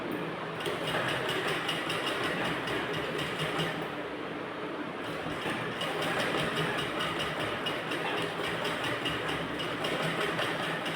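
A sewing machine stitches a blouse with a continuous, even motor whir that runs steadily without pause, close and fairly loud, with a brief dip in the middle.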